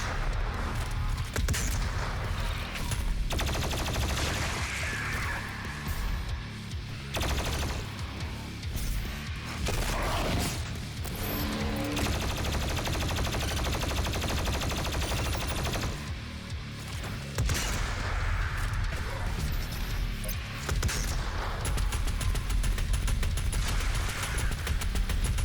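Sustained gunfire while shooting demon eyes in the DOOM Eternal video game, continuous and heavy with booming impacts and crashes layered over a loud, dense game soundscape.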